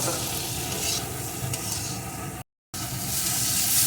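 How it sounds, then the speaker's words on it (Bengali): Spices with turmeric and chili powder are sautéed in a pan with salt for a rui fish eggplant curry, a continuous close sizzle with stirring scrapes, broken by a brief silent gap before resuming. "এখন সব কিছু একটু ভালো করে কষিয়ে নেব"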